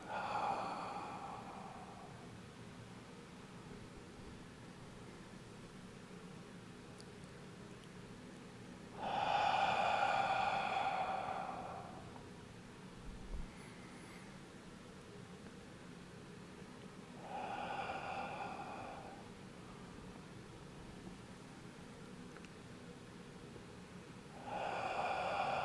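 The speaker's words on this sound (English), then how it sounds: "breathing out." Slow, deep exhalations during a qigong breathing exercise, three or four long breaths out spaced several seconds apart, soft and close against a quiet background.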